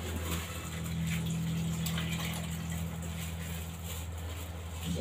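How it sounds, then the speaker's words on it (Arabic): Milk pours steadily into a pot for rice pudding, a continuous close gushing and splashing flow with a low hum beneath it. "هنضيف بقى بقيه اللبن اللي كان معايا في اللبانه"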